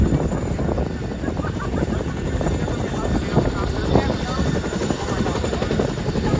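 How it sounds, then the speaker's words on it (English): A Chinook helicopter passes overhead at a Montana Army National Guard aviation support facility in Helena, its rotors producing a loud, steady, throbbing roar throughout. "Oh, here comes another Chinook."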